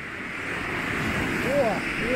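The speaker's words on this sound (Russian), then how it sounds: "Волны какие, а?" Sea surf rolling onto a pebbly shore after rain, during a storm warning at Kabardinka on the Black Sea: a steady broad wash of breaking waves with wind noise, while people talk nearby.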